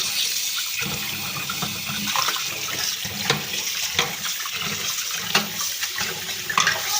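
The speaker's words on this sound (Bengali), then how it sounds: "এই যে রুই মাছটা আমি ধুচ্ছি এখানে" Running tap water pours steadily over a rohu fish (about 1 kg, cut into pieces) being washed in a kitchen sink, a continuous close splashing with irregular louder splashes as the fish is handled; no talking.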